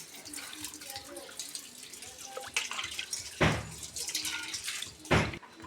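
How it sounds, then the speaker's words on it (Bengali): Water poured into a cooking pot of fish curry with radish and eggplant gives splashing gushes over a low kitchen background, two strong pours near the end, with faint voices. "পরিমাণ মতন পানি দিব।"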